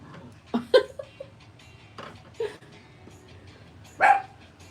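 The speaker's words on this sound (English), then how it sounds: "the dogs usually go crazy" Several dogs bark in short sharp bursts indoors at home, a few separate yaps and louder barks spread apart with a final loud bark, close by.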